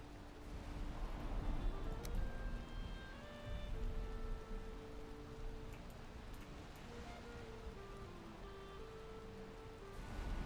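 Steady rain in the Valheim video game, a dense wash of falling drops at constant loudness, with musical tones drifting underneath and no voices.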